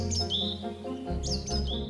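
Hoopoe birds give short, repeated chirping calls in quick bursts, fairly close and clear, with a low hum running beneath them.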